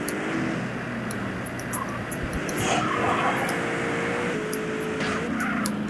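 A sports car speeds with nitro boost in GTA San Andreas, engine roaring and rising in pitch, tires squealing, with scattered sharp impacts and game effects layered over a continuous loud drone.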